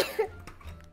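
A single short cough, close and abrupt, fading quickly into quiet.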